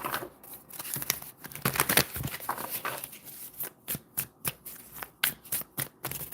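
Oracle cards being shuffled by hand, a run of crisp papery riffles and flicks that settle into a steady rhythm of separate slaps and whooshes, close up with no talking.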